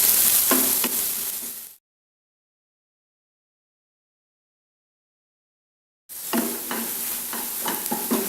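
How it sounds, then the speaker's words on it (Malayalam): Ginger and garlic sauté in oil over a low flame for a prawn roast, a close sizzle broken by stirring scrapes; sound cuts to silence for about four seconds, then the sizzling and stirring resume. "ഇഞ്ചിയുടെയും വെളുത്തുള്ളിയുടെയും പച്ചമണം മാറുന്നത് വരെ വഴറ്റി കൊടുക്കാം"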